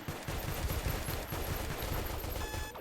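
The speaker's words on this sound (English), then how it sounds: "They also are shooting blindly into the dark" Sustained, dense gunfire from security officers firing into darkness in the space station game Space Station 14, rapid overlapping shots at steady loudness throughout with no talking.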